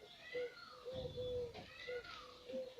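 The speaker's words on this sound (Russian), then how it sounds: "Дикие голуби это так кричат." Wild pigeons coo repeatedly in a village setting, soft hooting notes recurring in short phrases at moderate distance, with people talking faintly in the background.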